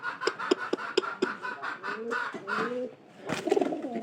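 A white pigeon by a straw nest gives repeated low, throaty coos close by, with a few sharp clicks and rustles early on and a brief louder flurry of calls near the end.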